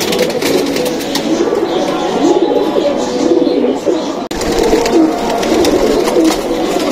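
Pigeons in a loft of Golden Blue Madrashi birds give a continuous, close chorus of soft, throaty cooing with faint rustling, holding at a steady level throughout.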